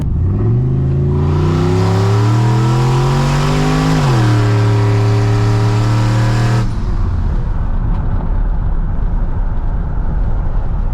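A loud turbocharged LS truck engine revs up through rising gears, climbs steadily, then cuts off sharply, leaving a rumbling idle and road noise.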